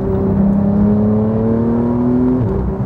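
A Porsche 911 engine hums and revs on an open road, a sustained near drone whose pitch slowly climbs and then settles, with no voices over it.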